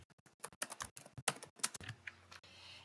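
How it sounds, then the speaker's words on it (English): Someone types a recipe on a computer keyboard, giving rapid, close, crisp keystrokes in irregular bursts that thin out toward the end as a quieter background hum remains. "So here I'm just going to show you how you can type a recipe."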